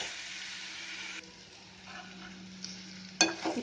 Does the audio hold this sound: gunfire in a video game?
no